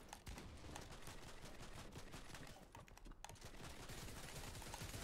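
Rapid SMG fire in Fortnite, a fast rattling stream of shots running almost nonstop over a noisy background, fairly faint and mixed with other game sounds.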